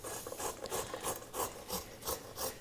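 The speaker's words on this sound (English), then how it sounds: "I happen to use a hand grater to do that." Food is shredded on a hand grater into a bowl with a quick series of rhythmic rasping strokes, close and moderately quiet, steady back-and-forth with no talking.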